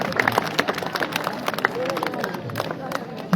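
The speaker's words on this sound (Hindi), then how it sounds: "आपकी तालियों में मोहम्मद तौसीफ" A crowd at a school competition prize-giving claps in a loose, busy patter with chatter and background voices mixed in.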